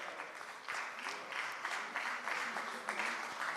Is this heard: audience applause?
yes